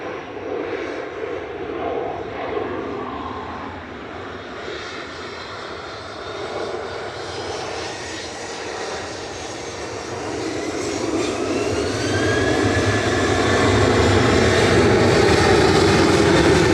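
A Ryanair jet airliner bound for Milan makes its takeoff roll at Manchester Airport. The broad engine roar builds steadily and grows loudest near the end, with no talk over it.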